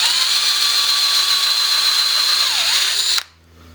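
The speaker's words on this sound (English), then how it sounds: "I'm going to try to countersink them in" A power drill runs steadily and loud, countersinking screws into a natural wood cross member of a garden gate, its whine dipping briefly near the end before cutting off abruptly into quiet.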